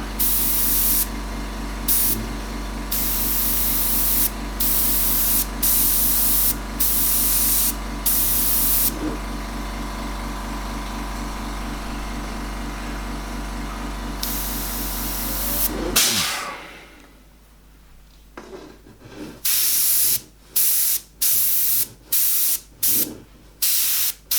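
Airbrush spraying paint onto a miniature, a close steady hiss broken by short pauses, then a quieter stretch followed by rapid short bursts of spray.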